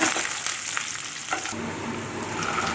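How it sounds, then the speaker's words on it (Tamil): Onion and garlic sauté in sesame oil, a steady close sizzle with occasional stirring scrapes, no voices. "வெங்காயமும் பூண்டும் ஆட் பண்ணி நல்லா வதக்கிக்கோங்க"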